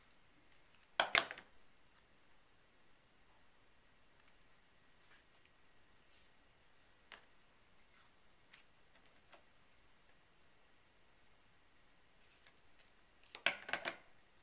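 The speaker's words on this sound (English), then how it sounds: "I'm going to use my pinking shears to give the tape a little bit more interest on the edges." Pinking shears snip through strips of tape in two short bursts of cuts, one near the start and one near the end, each a quick cluster of crisp close clicks over a quiet room with a few faint ticks between.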